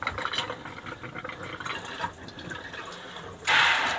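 Water trickling slowly into a caravan sink, a steady, close, continuous wash of running water that swells louder and brighter near the end.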